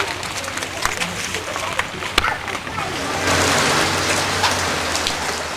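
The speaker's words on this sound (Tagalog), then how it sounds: "Lakas na ulan, no?" Heavy rain pours down in a dense, steady hiss that swells louder partway through, with a few sharper drips and knocks standing out against the constant downpour.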